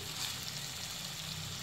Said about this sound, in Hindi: अब हम इसमें दही ऐड करेंगे।